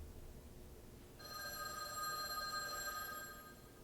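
A telephone begins ringing after about a second of quiet, a steady electronic trill that continues evenly, fairly faint and somewhat distant in a hushed room.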